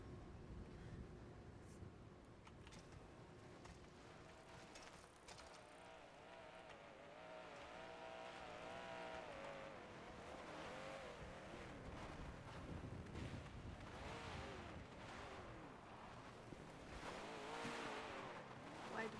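A car engine in a video game, NoPixel 4, drones and revs continuously with shifting pitch, steady throughout, over a windy, noisy background.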